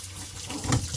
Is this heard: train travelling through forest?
no